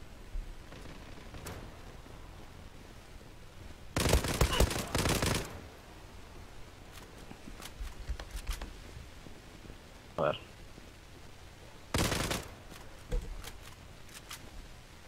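Gunfire in the online shooter Zula, with two loud bursts of rapid shots and a few scattered single cracks over low background noise, and a player talking at times.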